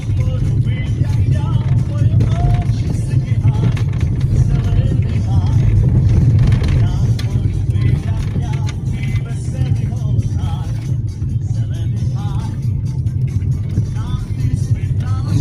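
A taxi car pulls away on a snowy winter road near Skhidnytsia, heard from inside. Steady, loud engine and road rumble continues throughout, with people talking over it.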